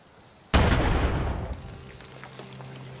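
Grenade explosion in Fallout 76, a single sudden loud boom after a quiet moment, decaying over about a second into rumbling debris and faint settling clatter.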